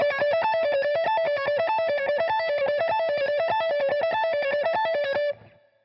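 Electric guitar lick played up to speed, a rapid run of evenly spaced picked notes with a bright, sustained tone, loud and alone for about five seconds before ringing out.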